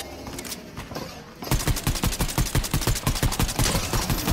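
Fortnite gunfire in a Spider-Man 2099 (Miguel O'Hara) match: a quieter stretch gives way after about a second and a half to a loud, fast run of evenly spaced shots that continues to the end.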